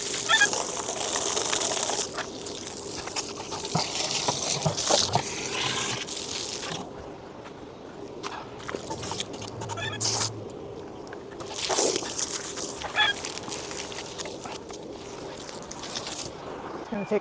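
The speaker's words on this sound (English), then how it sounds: "You can hear, first of all, the guinea fowl." Guinea fowl calling on a rural homestead during morning chores, harsh bird cries heard off and on at moderate distance over a background of running water and outdoor ambience.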